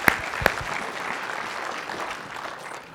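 A keynote audience at a conference applauds a presenter, a continuous spread of crowd clapping with a couple of sharp nearby claps at the start and another at the end.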